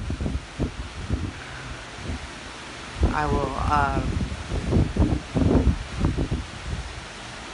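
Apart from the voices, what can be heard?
big gust of wind during storm Barry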